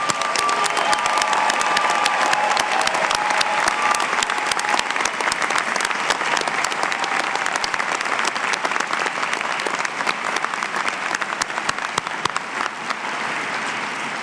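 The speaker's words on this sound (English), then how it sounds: "Let's give them another round of applause." An audience at a spring college commencement ceremony claps steadily and loudly, a dense continuous roar of hands with faint cheering mixed in that thins slightly toward the end.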